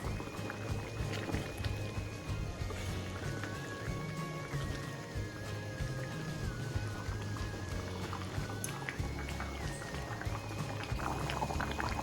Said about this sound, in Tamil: இப்போ நான் அந்த மீன் அதில் சேர்த்துக்கிறேன் இப்போது நல்லா கொதித்து வருது